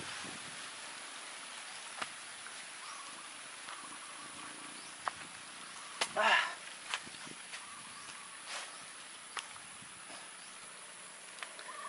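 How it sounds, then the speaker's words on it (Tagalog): Light rain falls over a rural vegetable plot, a faint steady patter with occasional sharper drips and one louder tap, heard from nearby with no talking. "Umulan na kaya titigil na natin."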